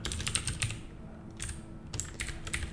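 Rapid clicks of a computer keyboard being typed on during a programming lecture: quick bursts of keystrokes with a short pause in the middle, fairly close and clear, with no talking.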